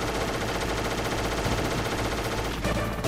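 Hind D helicopter gunfire in Metal Gear Solid, a loud unbroken machine-gun rattle blended with rotor and battle noise, steady for the whole stretch.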